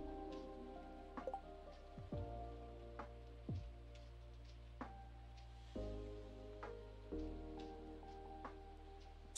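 Steady rain falling in Stardew Valley during its Green Rain weather event, a constant soft patter with layered game music tones shifting underneath and occasional small chimes.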